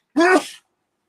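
A single short, voiced sneeze, close and loud, followed by silence.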